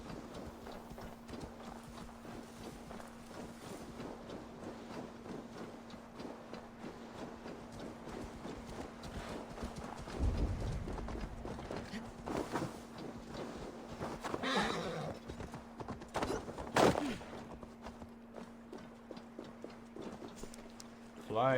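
Horse hooves in Assassin's Creed Valhalla clop in a steady galloping rhythm throughout, moderately loud, with a constant background hum, occasional louder thuds and a player talking over it.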